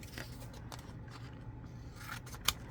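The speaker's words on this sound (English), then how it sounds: "I would cut off a small piece" A small piece of material is cut off by hand while building a plastic model, giving faint, close scissor-like snips and scrapes with a single sharper click near the end, in a quiet room.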